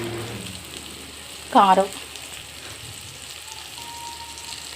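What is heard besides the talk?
tomatoes frying in a pan with onions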